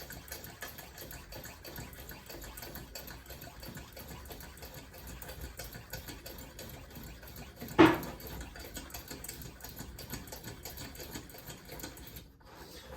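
The hand pump of a Coleman 243A lantern is worked to build pressure, giving faint, quick, evenly repeated strokes close by, with one sharper knock partway through.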